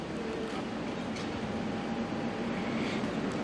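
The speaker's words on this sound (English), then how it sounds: "we just heard a GE90 spool up" A GE90 jet engine on a Boeing 777 spools up at Auckland Airport at night, a steady, broad roar rising slightly in pitch and heard at some distance, with no break throughout.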